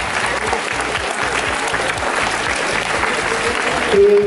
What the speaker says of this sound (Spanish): Un aplauso en la rama de tenis.